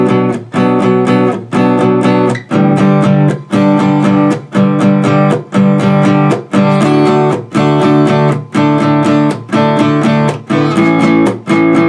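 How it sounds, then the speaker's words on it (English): Acoustic guitar strummed in full chord shapes through the Shivers chord progression, steady repeated strum patterns with brief gaps between bars, loud and close with no talking. "again, but played as the more full chord shapes"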